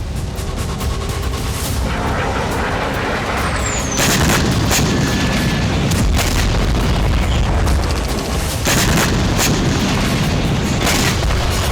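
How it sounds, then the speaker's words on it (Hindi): Heavy, continuous rumbling booms and blasts with broadband bursts from Russian suicide drone strikes in Ukraine, loud and dense throughout, like a barrage of explosions with no talking. "रूस के इन आत्मघाती ड्रोन से कई धमाके हुए।"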